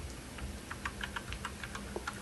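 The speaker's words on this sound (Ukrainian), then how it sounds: "Давайте понатискаємо всі клавіші, перевіримо." Keys clack on a GAMEPRO MK85R mechanical keyboard with red switches, a quick uneven run of light clicky presses over a steady background hiss.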